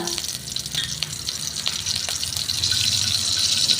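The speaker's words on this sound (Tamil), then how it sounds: "பாவக்காய் எண்ணெயில் பொரிக்கிறதுக்கு" Close, steady sizzling of bitter gourd frying in hot oil, crackling and hissing continuously and growing slightly louder, with no talking.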